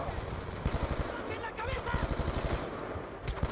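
Rapid automatic gunfire in Call of Duty Black Ops II, repeated sharp bursts of shots in quick rhythm, close and fairly loud, with voices talking over the shooting.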